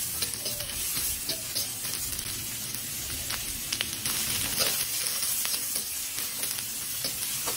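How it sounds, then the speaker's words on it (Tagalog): White onions and chili sautéing in a hot pan for bagnet sisig, giving a steady close sizzle and crackle of frying with occasional stirring scrapes, no voices. "ginisa na natin ang ating white onions mga idol kasama ang silisigang"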